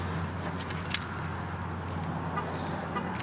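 A ring of keys jangles by a car, a busy metallic rattle that continues steadily and close for a few seconds over faint background noise.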